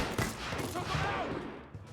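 Gunfire in Mafia: Definitive Edition, a burst of sharp shots near the start followed by further reports and ringing decay, fairly quiet in the mix.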